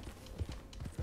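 A horse's hooves in Red Dead Redemption 2 clop faintly on the ground in an uneven rhythm over a short stretch, quiet and muffled.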